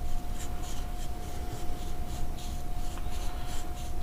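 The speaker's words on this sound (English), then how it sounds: "I'm trying to clean the rust out in here without getting it on the lens" A Scotch-Brite pad scrubbing rust inside vintage AirGuide binoculars: quick rhythmic rasping strokes repeating steadily, close and scratchy, over a low hum and a constant faint tone.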